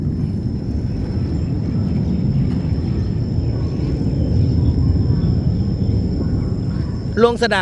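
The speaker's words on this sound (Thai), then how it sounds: "ตกใจด้วยว่าเสียงอะไรมาทุกคนค่ะเสียงเครื่องบินค่ะ" A low-flying airplane heading to land at an airport in Ubon Ratchathani, heard at a temple as a steady, loud broadband roar that fills the whole stretch, with no break in the rumble.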